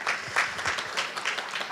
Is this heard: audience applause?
yes